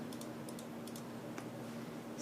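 Light, fast keystrokes on a Razer BlackWidow Chroma mechanical keyboard, a few scattered clicks over a steady low background hum, fairly faint and close.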